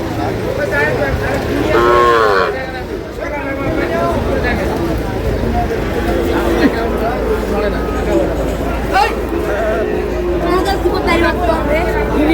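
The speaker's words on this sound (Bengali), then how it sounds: "ছোট ছোট ষাঁড় বাচ্চা কিনছেন শাহাবুর ভাই।" Bull calves lowing at a busy cattle market, several moos rising over steady crowd chatter and voices close by throughout.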